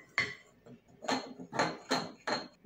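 Pizza dough ingredients being mixed in a bowl by hand, heard as five or six sharp clinking strokes of a utensil against the bowl in an uneven rhythm, close and alone.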